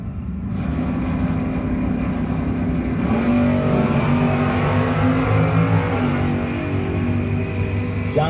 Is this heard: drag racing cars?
yes